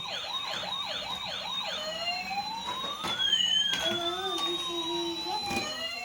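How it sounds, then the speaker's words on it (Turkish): A lighted toy ambulance's siren wails loudly up close, first in quick repeated yelps and then in long, slowly sweeping tones. "Şimdi ışıklı ambulans geliyor."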